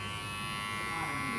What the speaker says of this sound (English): So I'm gonna go in with my trimmer